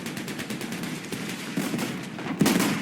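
Tank gunfire from an IS-4M in War Thunder: a rapid string of sharp cracks over steady battle rumble, with heavier booming shots near the end.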